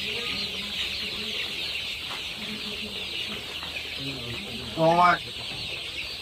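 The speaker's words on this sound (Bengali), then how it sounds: "মুরগিগুলো সুন্দরভাবে খানা খাচ্ছে।" Chickens cluck softly while eating feed in a poultry shed, a steady background of hen murmurs with a louder burst of clucking near the end, under brief talk and a constant fan-like hum.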